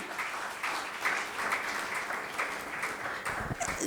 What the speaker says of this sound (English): I'm not happy with the claps